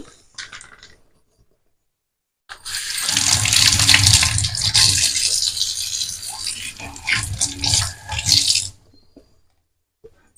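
Kitchen tap water running into a sink while fruit is washed for a fruit salad, a loud rushing splash starting after a quiet moment and cutting off near the end, with faint rattling.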